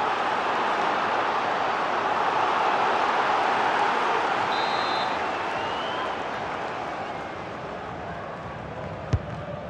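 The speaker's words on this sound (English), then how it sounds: "just listen to the crowd" A stadium crowd in the FIFA 23 football game, an MLS match between Toronto FC and Real Salt Lake, keeps up a steady, dense roar that holds throughout and eases slightly toward the end, with no clear talk.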